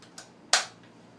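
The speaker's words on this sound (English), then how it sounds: "squeeze once again. You should hear the metallic click." A rifle trigger is dry-fired during a weapon function check, giving one crisp metallic click after a softer faint tick, close and alone in a quiet room.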